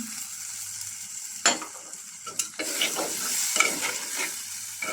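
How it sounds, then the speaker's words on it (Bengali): Spice paste sizzles steadily in a pan for a prawn malai curry, with scraping stirs and a few spoon knocks against the metal breaking through the continuous frying hiss, close and fairly loud. "মশলাটা কষানো প্রায় হয়ে গেছে। মিল্ক দিয়ে দিই।"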